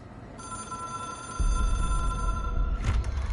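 An old telephone in the video game Control rings with a bright electronic bell tone, steady and fairly close, over a low ambient hum that thickens partway through.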